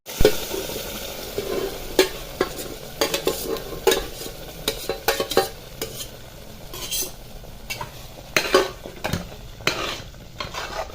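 Masoor dal is stirred into a sizzling tomato tempering. Irregular scraping and clinking strokes of the spoon sound against the pan over a low, steady sizzle, with no voices.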